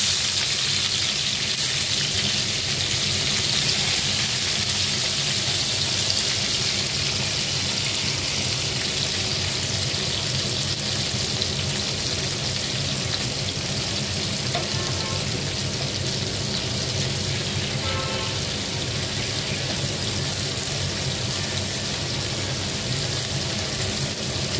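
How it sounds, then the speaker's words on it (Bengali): Prawns, rubbed with salt and turmeric, sizzle loudly in hot mustard oil in a wok on a gas stove, a dense, steady crackling hiss with no talking. "গ্যাসেতে কড়া বসিয়ে দিয়েছি সরষের তেল গরম হয়ে গেছে, দিয়ে দেবো চিংড়ি মাছ।"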